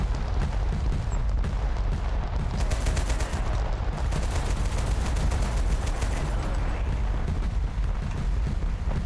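Continuous dense gunfire rattles through a large battle in the video game Total Conflict: Resistance, with overlapping bursts and distant booms forming a steady, loud wall of combat noise that runs throughout without any talk.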